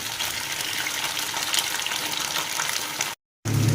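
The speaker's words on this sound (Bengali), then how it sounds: "তরুলিগুলোকে এই তেলের মধ্যে ভেজে নেব।" Sliced taruli gourd fries in hot oil with a dense, even sizzling hiss that stays loud throughout, briefly cutting out to silence near the end before resuming.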